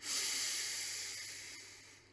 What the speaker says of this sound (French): Et une dernière fois, j'inspire par le nez.